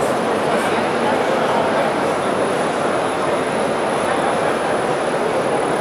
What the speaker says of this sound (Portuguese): Retífica de cilindros.